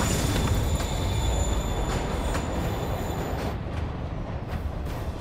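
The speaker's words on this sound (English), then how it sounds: "Train moving." A train in the video game Marvel's Spider-Man rumbles along with metallic wheel squeal and rattling, loud and continuous before thinning slightly toward the end.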